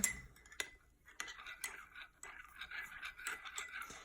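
A teaspoon mixes instant coffee in a small cup, giving faint, irregular clinks and scrapes of metal on the cup with quiet pauses between them and no voices.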